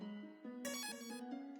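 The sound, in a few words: phone ringing in the video game Undertale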